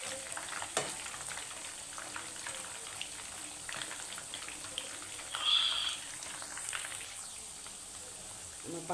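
Chicken and vegetable pakoras frying in hot oil give a steady, faint crackling sizzle that runs the whole time, with a slightly louder burst of bubbling partway through.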